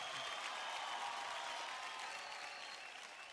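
Steady, loud applause fills a studio after a jazz dance performance by a contestant on a Marathi TV dance competition, dense clapping holding evenly and fading slightly at the end.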